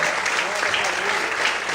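A church congregation claps steadily, a dense wash of applause with no clear break, close and fairly loud throughout.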